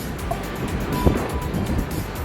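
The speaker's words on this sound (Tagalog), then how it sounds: "Yan, mahangin at saka maambon." Strong wind gusts over an outdoor spot in Al-Khobar, Saudi Arabia, during drizzle, a loud rough rumble with buffeting on the microphone that stays steady throughout, with one brief knock near the middle.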